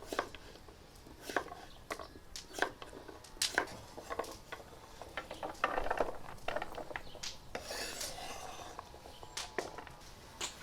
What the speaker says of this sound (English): Next, we dice them up.